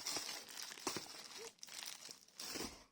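Packaging crinkles and rustles as Gorenje vacuum sealer containers are unpacked, close and fairly quiet, with irregular crackling bursts and brief pauses.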